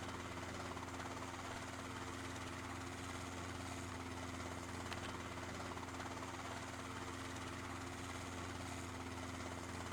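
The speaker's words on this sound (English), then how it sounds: "I land my heli so well." A helicopter landing in the DayZ video game gives a steady, droning rotor and engine hum that holds constant and faint throughout, with no voices.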